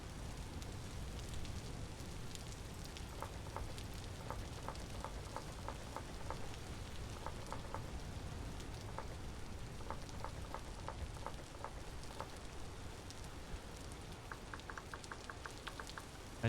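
Steady rain falls in the survival game Vintage Story, a continuous soft hiss of patter with scattered light drips and taps, without pause.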